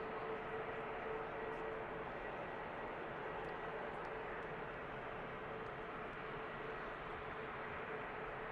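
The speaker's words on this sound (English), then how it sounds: "The TAP Air Portugal is pushing from T2." Steady broadband roar of a TAP Air Portugal airliner pushing back from Terminal 2 at Manchester Airport, a continuous engine and ground noise with a faint tonal whine, even and unbroken throughout.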